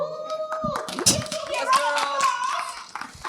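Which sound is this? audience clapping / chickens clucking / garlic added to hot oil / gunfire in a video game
audience clapping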